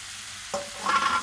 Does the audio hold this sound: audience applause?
no